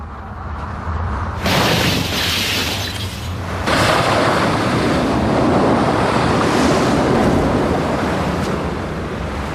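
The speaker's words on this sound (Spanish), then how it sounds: "Vientos de más de 215 kilómetros por hora sacuden a los rascacielos." Violent wind above 215 km/h tearing between skyscrapers, a loud continuous roar that surges sharply after a quieter opening and stays dense and buffeting, with no voices.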